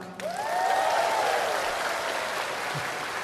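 A church congregation claps steadily at a healing service, a dense sustained patter that fills the room, with a voice's rising pitched tone or shout sliding through early on.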